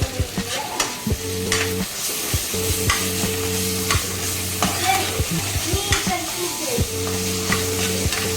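Ginger garlic paste frying for pulao, a steady sizzle in the pan broken by repeated scraping and clanking as a spoon stirs it, close and loud, with a steady background hum and no talking.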